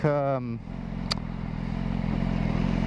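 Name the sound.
2015 BMW S1000RR motorcycle exhaust pop and burble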